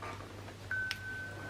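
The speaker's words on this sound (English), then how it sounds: "sorry, that's my phone pinging." A phone gives a short notification ping indoors: a brief bright chirp, then a thin sustained tone, quiet over a low steady hum, with no talking.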